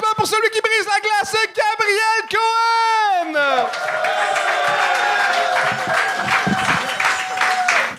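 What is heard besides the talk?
audience applause for a comedy show contestant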